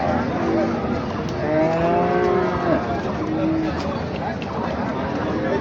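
A bull's low, drawn-out moo rises and falls at a cattle market in Ambari amid a busy outdoor crowd with chatter and engine noise throughout.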